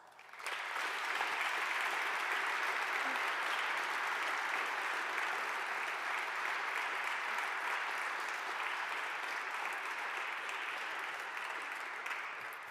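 Sustained applause for students at an honors convocation, a dense, even crowd of clapping that starts abruptly and continues at full strength before easing slightly at the end.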